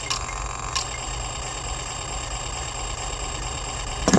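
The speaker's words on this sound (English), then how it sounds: "Could have that deep rumbling sound." A deep, steady engine-style rumble from a LEGO Super Mario Kart toy kart in the 72035 Toad's Garage set. It idles continuously at moderate volume, with a few faint clicks near the start and end and no talking.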